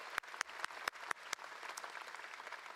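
Faint, sparse hand claps from a convention audience, about half a dozen distinct claps in the first moments before fading into a quiet murmur of background noise.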